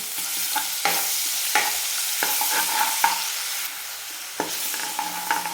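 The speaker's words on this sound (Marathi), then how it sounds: "अद्रक कोथिंबीर आणि लसूण याची पेस्ट जी आपण उरवून ठेवली होती ती टाकून घेऊ आणि छान आपल्याला हिला फ्राय करून घ्यायचे" Ginger, coriander and garlic paste fries in a pan for a dry chicken fry, a dense sizzle broken by repeated scraping strokes of a spatula stirring, close and loud with no talk.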